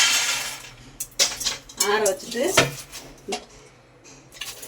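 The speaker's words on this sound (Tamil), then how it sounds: "வேர்க்கடலை வறுத்தாச்சு. ஒரு தட்டில் கொட்டி ஆற வச்சுட்டு" Roasted peanuts tumble onto a plate in a few short clattering bursts, close by, with metal scraping and clinks between them and some faint voice in the background.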